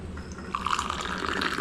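Sweetened tea or liquid pours from a vessel into a glass in a home kitchen, a short gurgling trickle that starts after a brief pause and keeps flowing close by until the end.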